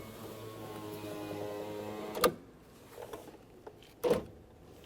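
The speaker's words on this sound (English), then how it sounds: "We're going to carefully bring down the driver's side window" A driver's side power window on a 2004-2006 Scion xB lowers with a faint whirring motor hum, ending in two sharp knocks.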